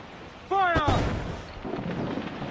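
Ship cannon fire in a pirate video game: a shouted command, then a heavy booming blast that rumbles and fades over about a second, with voices in the background.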